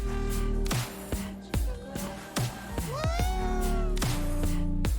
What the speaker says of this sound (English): Each store is operated by a yokai, which looks like a cat